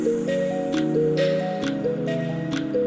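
Ginger-garlic paste sizzles with browned onions in a hot pan, a continuous close frying hiss with soft squishy stirring, and a tonal hum runs underneath.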